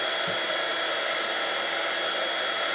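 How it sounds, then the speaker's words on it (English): A HIPPIE Crafters heat gun blows hot air in a steady, even roar that holds unbroken from start to finish, close and fairly loud, with no talking. "I'm gonna go pack my HIPPIE Crafters heat gun back in the box."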